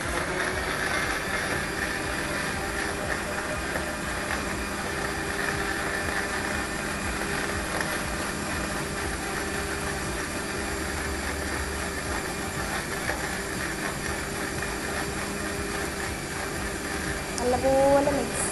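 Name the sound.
mixer grinder blending juice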